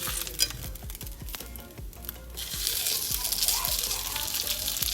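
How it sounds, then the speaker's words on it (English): Salmon cakes fry gently in olive oil in a pan, a steady close sizzle that grows brighter and louder partway through, with soft clicks and pan noises under it. "Add a touch of olive oil. And add the fish cake. And you gently just want to cook these through until golden brown."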